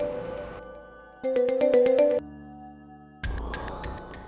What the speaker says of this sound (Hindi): अल्बर्ट खान का फोन